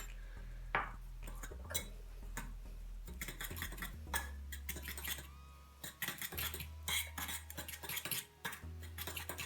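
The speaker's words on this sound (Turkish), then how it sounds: "Şimdi bunu karıştıracağım, çırpacağım daha doğrusu." Dalgona coffee of instant coffee, sugar and water being whisked in a bowl, a busy run of fast metallic clinks and scraping taps against the bowl, steady and close with brief pauses.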